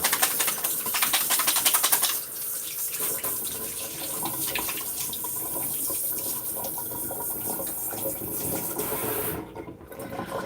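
A kitchen tap runs steadily for hand washing before preparing pork ribs, a constant close hiss of water with small splashing changes and a brief dip near the end.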